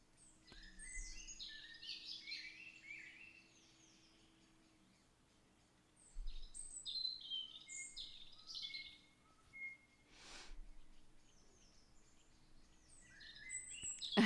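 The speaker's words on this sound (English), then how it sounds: "I've never said that the bird sounds were real." Birdsong played on a livestream: faint chirps and tweets scattered over a quiet background, with a low steady hum underneath and a few bursts of noise.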